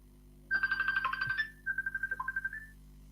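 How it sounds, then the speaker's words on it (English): A telephone rings with an electronic ringtone: two bursts of rapid warbling trills, the second pitched slightly differently, clear and alone over a low steady hum. "that was a phone call."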